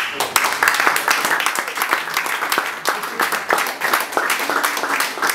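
An audience at a café film premiere evening bursts into dense, lively applause for an organiser, many hands clapping loudly and steadily, with a few voices mixed faintly into the clatter.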